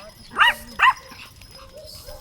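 Two sharp, close barks from small dogs, a Pomeranian and a Shih Tzu out on a walk, sound about half a second apart, then fade into a quiet outdoor background with light voices.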